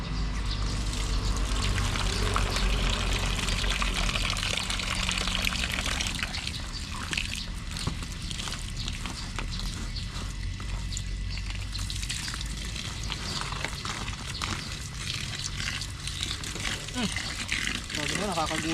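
Water poured over a backyard garden, a continuous hissing stream running steadily throughout while a person talks over it.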